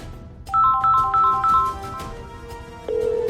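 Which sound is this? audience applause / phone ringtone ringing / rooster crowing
phone ringtone ringing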